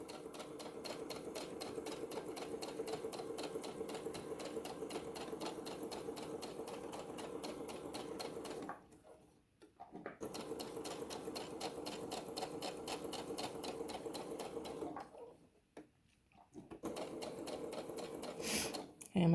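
A sewing machine runs in long, rapid bursts stitching a tote bag seam, pausing twice before starting again, its even mechanical chatter close and steady while a voice speaks quietly over it.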